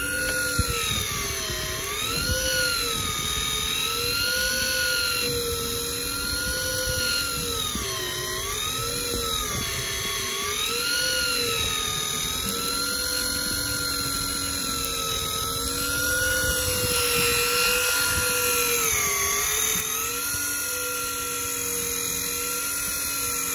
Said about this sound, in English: Judging from the effort of the reel